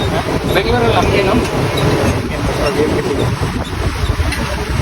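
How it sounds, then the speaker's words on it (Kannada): A Mumbai local commuter train rumbles along with a continuous loud roar and rattle of wagons, heard from close by with a faint clatter of wheels, while people talk over it. "ಮುಂಬೈ ಲೋಕಲ್ ಟ್ರೈನ್ ಲೋಕಲ್ ಜನಗಳಿಗೆ ಟ್ರಾನ್ಸ್ಪೋರ್ಟ್ ಸಿಸ್ಟಮ್"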